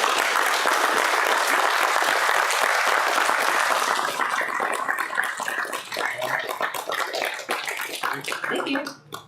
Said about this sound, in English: So if you guys can give a quick round of applause